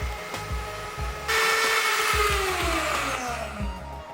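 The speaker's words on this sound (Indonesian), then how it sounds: "Dan mixer dengan speed tinggi hingga adonan berjejak." An electric hand mixer whirs steadily at high speed, beating a cake batter of eggs and sugar, with a rhythmic low churning pulse and a louder, brighter whine kicking in partway through.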